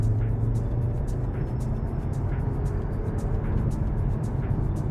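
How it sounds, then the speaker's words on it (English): Low engine rumble of a 2023 Volkswagen T-Roc with a DSG gearbox in sport mode, heard from inside the cabin as it accelerates. The hum stays steady, with faint regular ticking over it. "if you flick the gear lever back once, you engage sport for the transmission. So I'm just gonna try push it a bit."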